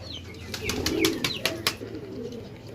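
Pigeons coo close by in soft, low rolling calls, with a few sharp clicks and rustles among them and no talk.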